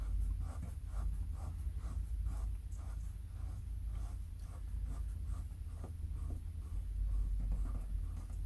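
A pencil eraser rubs at pencil marks on a vintage Penguin paperback, making close, soft, steady scratchy strokes in a quick regular back-and-forth rhythm that continues throughout without talking.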